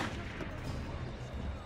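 Gunfire in the video game Assassin's Creed Syndicate, dense rumbling shots and blasts forming a continuous, fairly loud, noisy wash.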